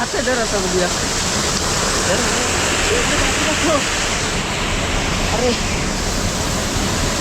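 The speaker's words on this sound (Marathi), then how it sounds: "हा यो धबधबा आहे धबधबा" A waterfall near a village crab-catching spot pours in a steady, loud broadband roar that fills the whole clip, with faint voices audible underneath.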